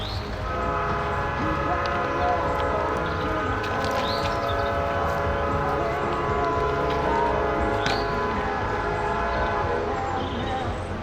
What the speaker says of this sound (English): our 110-car train is finally rolling eastbound and out of Asheville